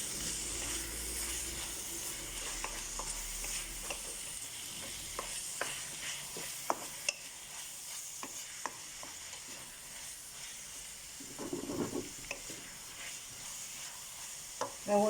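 Chopped garlic stirred around a hot frying pan for an Egyptian spinach beef stew, a steady sizzle with repeated scraping clicks of the utensil, close and unbroken with no talking.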